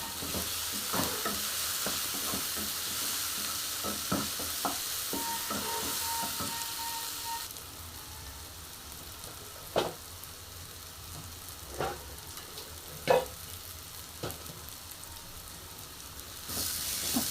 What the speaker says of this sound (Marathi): आता ह्याच्यामध्ये लाल तिखट, हळद आणि धना पावडर टाकते. हे सगळं मिक्स करून घ्यायचं.